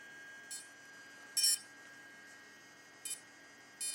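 A Wingsland S6 mini pocket drone, freshly switched on, emits four short electronic beeps spaced irregularly over a faint steady whine, close and fairly quiet.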